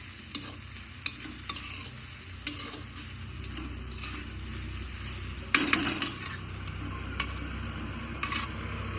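Chopped onions fry in a pan for chutney under a constant sizzle, with repeated sharp clicks and scrapes of a spoon stirring against the metal, one louder clatter near the middle.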